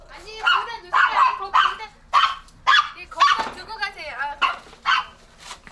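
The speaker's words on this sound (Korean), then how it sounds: "집안에서도 낯선 손님이 오면 달려가 짖기 시작한다" Dogs inside a house bark and yip at a stranger visiting, a rapid string of close, excited barks with whining in between and no long pauses.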